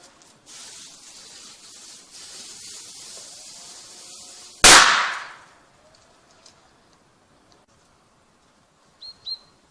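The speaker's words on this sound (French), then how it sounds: "Vous la tirez et vous balancez ensuite le pétard." A Bison 1 firecracker fitted with a homemade pull pin goes off in one sharp, loud blast that trails away quickly, after a hiss of spray or wind; faint chirps are heard afterwards.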